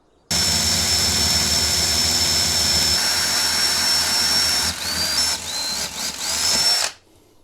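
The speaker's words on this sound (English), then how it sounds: "And that means drilling a slightly larger hole." A power drill whines steadily at high speed, loud and close, drilling a hole in a 12 volt adapter, then stutters through a few brief slowdowns before cutting off.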